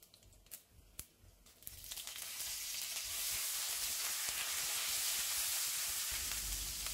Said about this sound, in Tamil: நெய் காஞ்சதும் அதில் 1/2 டீஸ்பூன் சீரகம், 1/2 டீஸ்பூன் கடுகு. இப்போ இது பொரிஞ்சதும் அதில் கொஞ்சமாக மிளகாய் வத்தல் அப்புறமா கருவேப்பிலை சேர்த்துக்கோங்க.